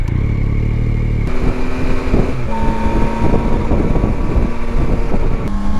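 A 2021 Yamaha Tracer 9 GT motorcycle cruises on the road, its engine a loud, continuous drone with shifting pitch as it changes gear, mixed with heavy wind rush against the rider's camera.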